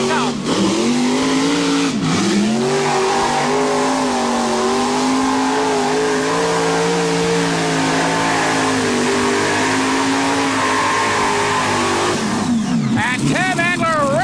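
A modified pulling tractor engine roars loudly and steadily as it pulls down a dirt track at a 1989 tractor pull in Atco, New Jersey, its pitch rising and wavering near the end, with an announcer talking over it.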